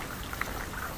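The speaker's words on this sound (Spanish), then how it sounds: "Está la lloviznita finita." Soft, steady patter of light rain with a few faint droplet ticks over a continuous hiss, quiet and close.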